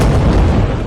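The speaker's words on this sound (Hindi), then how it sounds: "राजधानी तेहरान में विस्फोटों की आवाजें रात भर गूंजती रही हैं।" An explosion in Tehran during Israeli attacks gives a single loud, deep boom that fills the short moment with a rumbling blast.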